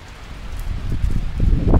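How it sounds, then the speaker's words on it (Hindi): Heavy rain with gusting wind lashes down outdoors, growing steadily louder and denser over a couple of seconds, with rustling and spattering drops close by and no talking. "लेकिन आहिस्ता आहिस्ता बारिश जो है ना तेज़ होती जा रही है"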